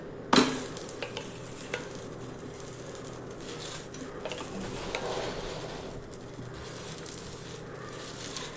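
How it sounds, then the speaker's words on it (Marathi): Cheese paratha roasting on a griddle with oil spread over it, giving a soft continuous sizzle with a sharp tap near the start and light scraping touches, close and quiet. "थोडा शेकला की मस्त त्याला तेल लावून घ्यायचं."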